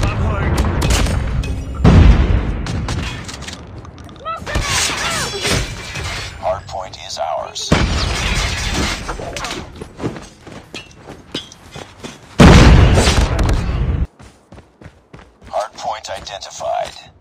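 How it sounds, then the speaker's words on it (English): Predator missile strikes in the game Call of Duty Mobile hit as heavy, loud booming explosions in several separate blasts mixed with game action, with speech over parts of it. "Friendly Predator missile inbound."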